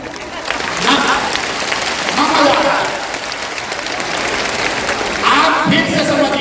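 Audience clapping at a women's political meeting in a Patna auditorium, a steady patter of many hands running under a man's loud speech.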